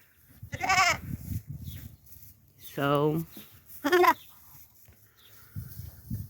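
Goats bleat in three separate calls, loud and close, with wavering tones, between brief stretches of a person talking in a farm feeding setting.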